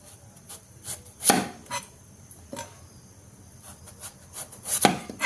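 A knife chops young ash gourd on a board in irregular, close, sharp strikes, a few of them loud with quieter cuts in between and no talking.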